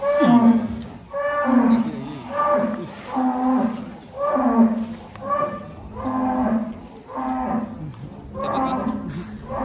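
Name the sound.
Belgian Blue cattle mooing at a contest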